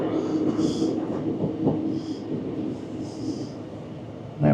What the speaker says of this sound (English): There we are now, just pulling into Cot railway station.